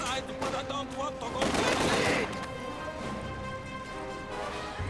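Machine gun fire in the WWII strategy game Company of Heroes 2, raking enemy Grenadiers in a 2v2 match: rattling bursts and a heavy blast sounding through the battle noise, with a caster talking over part of it.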